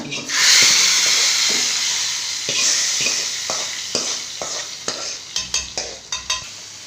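Spices hiss and sizzle loudly as they are tempered in hot oil, fading gradually, followed by a series of quick stirring clinks from a spoon against the pan.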